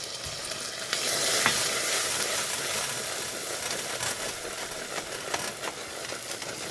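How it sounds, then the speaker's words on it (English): Vanilla stirred into hot, bubbling peanut brittle candy makes a loud hissing sizzle that swells and then settles to a steady crackle, with light spoon scrapes. "and my vanilla. And I'm going to stir that in."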